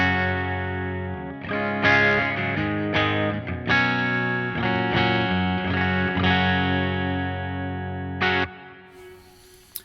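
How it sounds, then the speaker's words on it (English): A Chapman ML3 electric guitar played clean straight into a Victory V50 amp, a run of ringing strummed chords and sustained notes with a slight edge, fading out near the end. "this is the sound of the guitar straight in to the V50"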